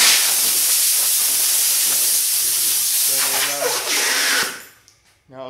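Compressed air blasts across a panel being cleaned before body filler goes on, a loud continuous broadband hiss holding steady for several seconds, then cutting off abruptly near the end with a brief pause and a short final burst.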